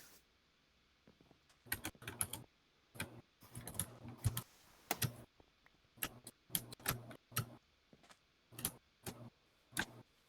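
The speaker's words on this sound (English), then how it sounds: "your typing is coming through" Typing on a computer keyboard picked up over voice chat during a Minecraft session, irregular clusters of close clattering keystrokes with short pauses between bursts, no voices.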